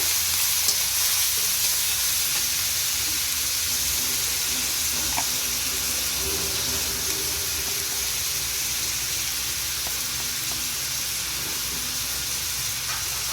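Chopped garlic and other ingredients sizzle in hot oil in a pan for an egg dish, a constant, even frying hiss with a few faint clicks.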